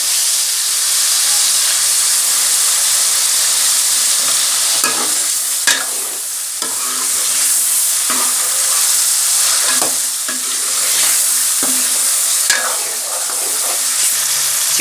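Chicken sizzles steadily as it fries in a pan with already-fried red chili, turmeric and salt for a gobi chicken dish. Scraping stir strokes recur every second or two over a constant, loud hiss.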